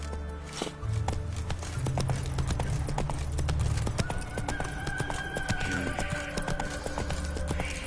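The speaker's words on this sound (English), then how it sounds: "Run, Roach." Galloping horse in The Witcher 3 Wild Hunt on PS5, rapid rhythmic hoofbeats with a brief whinny, loud and close over game music and ambience.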